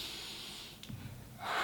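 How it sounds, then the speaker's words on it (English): A person lying flat on their back takes a deep breath in, a soft breathy rush rising toward the end, close and quiet. "And I'm just gonna take a deep breath in."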